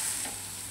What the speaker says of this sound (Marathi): तुरीची डाळ टाकून आपण तिला परतून घेऊया ह्याच्यामध्ये